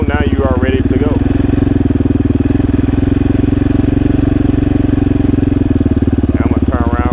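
A quad bike engine runs steadily in gear after the clutch is eased out, a loud close rhythmic putter throughout, with someone talking over it at the start and end.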